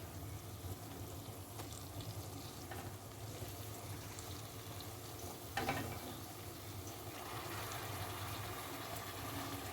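Fresh dill greens (shepu) drop into a pan of cooked dal, giving a soft, steady sizzle and bubbling with faint clinks, low and even throughout.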